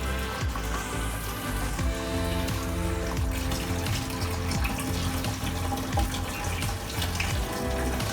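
Water siphoned from a moss-planted aquascape tank into a big bucket, a steady close trickling and splashing flow with faint gurgles, continuous and moderately loud.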